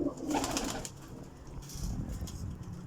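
Champion breeder pigeons coo in soft, low, rolling calls at close range. A faint rustle sits in the background.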